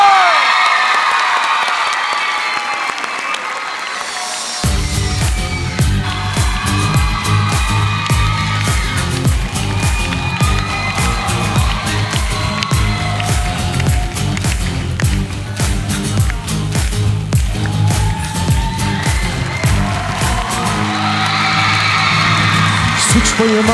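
A studio crowd screams and cheers loudly as a singer is introduced for a special TV show performance, then a band's music takes over.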